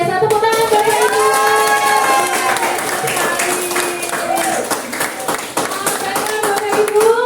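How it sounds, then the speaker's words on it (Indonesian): Audience hand clapping at a positive-culture dissemination event for teacher candidates in Indonesia, steady and dense throughout, with a voice and musical tones running over the applause. "Tepuk tangan Bapak Ibu."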